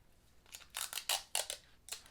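Scissors snip through floral tape in a quick run of about five or six crisp, close cuts that grow louder toward the end, with no talking.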